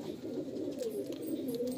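A loft of male white-eyed Malbai pigeons keeps up a soft, continuous low cooing murmur, with a few rolling coos standing out briefly.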